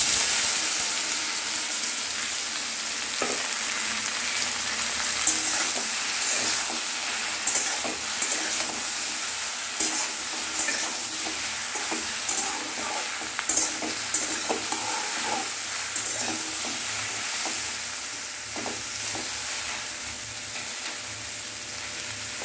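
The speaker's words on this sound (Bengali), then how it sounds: "ঢ্যাঁড়সটা পুরো ভাজা হয়ে গেছে" Small cut pieces of okra fry in hot oil with a steady, close sizzle and crackle, broken by occasional stirring scrapes and light pan knocks throughout.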